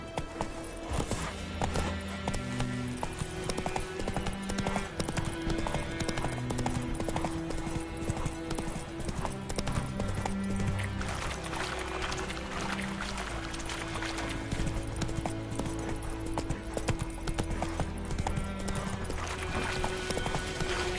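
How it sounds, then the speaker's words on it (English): Galloping horse hooves in The Witcher 3 video game, a steady rapid clip-clop rhythm running the whole time, loud and close under game music with occasional whinnies. "That's it, Roach"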